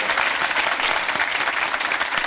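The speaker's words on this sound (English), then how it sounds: "give him a round of applause" A studio audience on the 2016 Millionaire Hotseat quiz show applauds in a steady, even wash of clapping, loud and continuous from start to finish.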